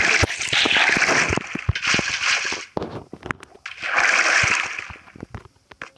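Water splashing and sloshing in Minecraft while a water elevator is built, with two long bursts of splashing broken up by short clicks and quieter gaps, close and fairly loud, and no speech.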